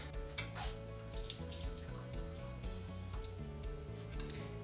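Water draining from an opened can of peas and carrots into a sink while making fried rice, a steady running, splashing stream that continues throughout at moderate level.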